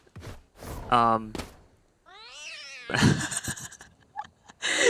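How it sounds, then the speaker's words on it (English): A cat meows repeatedly during a VALORANT esports grand finals broadcast, with drawn-out, wavering cries rising and falling in pitch, mixed with people talking and clattering game sounds. "It's really hard to talk about the game when I'm just hearing meowing every 2 seconds."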